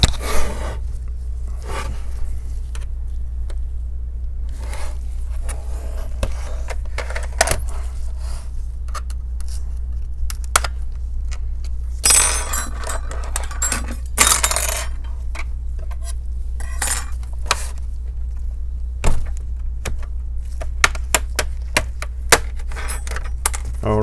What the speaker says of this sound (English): I like to begin with the corner where the weakest spot is going to be. I can easily pry it open.